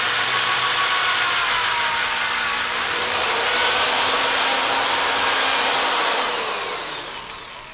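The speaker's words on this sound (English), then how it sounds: "Now that I've got that starter hole drilled nice and straight, I'll actually switch to the 11/64" Power drill with an 11/64 bit boring into a Remington 597 rifle stock, a loud close whine that climbs in pitch as the bit bites, holds steady, then winds down. No voices.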